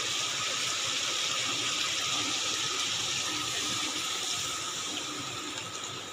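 A little water poured into a cooking pot of thick curry, a steady close gushing splash that runs continuously and fades slightly near the end, with no voices.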